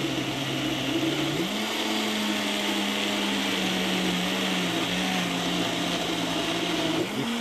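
A Vitamix blender grinds vegetables into a raw green soup, a loud steady motor whine that jumps to a higher speed early on and holds there, ending with a brief change in pitch.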